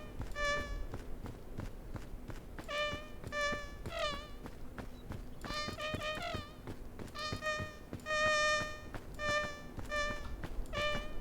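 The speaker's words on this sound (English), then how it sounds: "That's a fly sound." A fly or mosquito buzzes in the survival climbing game PEAK, a whining, harmonic drone that rises and falls in several close passes, some louder than others.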